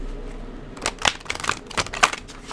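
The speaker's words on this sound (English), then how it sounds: "the loud clacking sound when I shuffle" A deck of tarot cards being shuffled up close, a run of sharp clacking riffles and taps in irregular bursts, loud against a quiet room.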